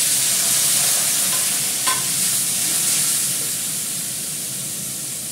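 Green chili and other ingredients being sautéed in a pan make a loud, continuous hiss and sizzle with one brief sharp pop near the middle, gradually easing toward the end.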